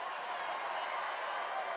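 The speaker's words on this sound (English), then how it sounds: "A big cheer there as St. Ivany came out with the puck." A crowd cheers at a Harvard versus Yale college hockey game, a dense, steady roar of voices throughout the short moment.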